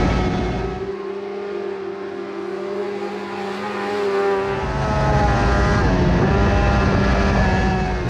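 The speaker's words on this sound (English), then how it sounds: "It was so great to see the car out doing its first laps" A rebuilt Modlite race car runs its first laps on a track in Australia, its engine loud and steady throughout, the note rising and shifting as it accelerates and passes close by, with no voices.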